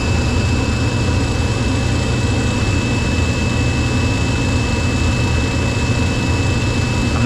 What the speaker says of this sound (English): Motor started.